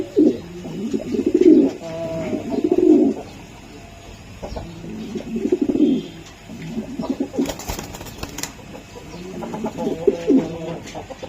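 Racing pigeons coo close by in repeated throaty bursts, pausing between phrases, with a faint rustle partway through.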